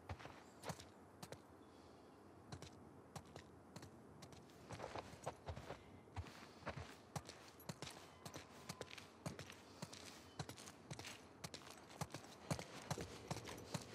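Horses in The Last of Us Part 2 walk at a steady pace, their hooves giving a continuous run of crisp clip-clops, fairly quiet and near, over faint outdoor ambience.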